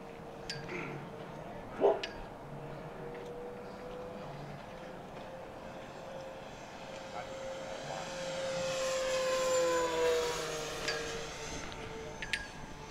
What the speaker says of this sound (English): You can tell Nick's flying someone else's plane